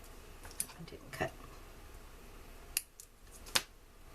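Scissors snip through paper banners for a birthday card, a few sharp, separate cuts spaced out over a quiet background, with a voice speaking softly at times.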